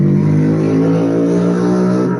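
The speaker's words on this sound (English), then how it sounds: "That's not a loud ass car from down the road." A loud car engine drones steadily and close for about two seconds, a strong low rumble with no talk over it.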